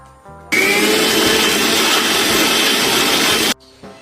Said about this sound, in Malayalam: ഞാനൊരു മിക്സിൻ്റെ ജാറെടുത്ത് ചിക്കൻ ഗ്രേവിക്ക് വേണ്ടിയിട്ട് ഇതാ മല്ലിയിലയും കറിവേപ്പിലയും പെരുംജീരകവും ഇഞ്ചിയും വെളുത്തുള്ളി പച്ചമുളകും കൂടി ഒന്ന് പേസ്റ്റാക്കി എടുക്കണേ